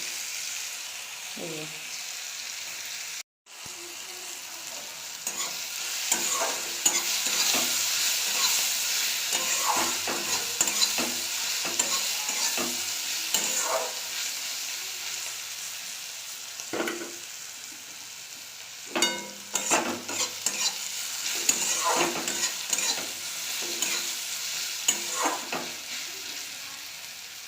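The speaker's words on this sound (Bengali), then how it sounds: "পেঁয়াজটা আমি ভেজে নেব লাল লাল করে" Chopped onions and garlic sizzle and fry in oil in a pan, a steady close crackle with occasional stirring scrapes, broken by one brief cut near the start, and a single short spoken word early on.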